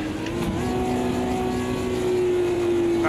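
Race car engine in Automobilista 2 held at high revs as the car crosses a bumpy little hill at Bannochbrae, a steady loud drone with a strong sustained tone throughout.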